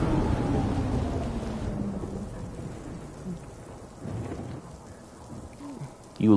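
Steady rain with a deep thunder rumble in the video game Death Stranding, a broad wash of downpour filling the scene and fading slightly toward the end, with a sharp burst at the close.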